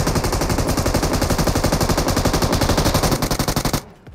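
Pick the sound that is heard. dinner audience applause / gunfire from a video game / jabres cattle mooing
gunfire from a video game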